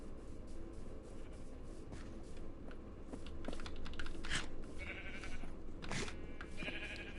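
Sheep bleating in the video game Minecraft, a few short blocky bleats over a steady game background, mixed with keyboard clicking and shuffling.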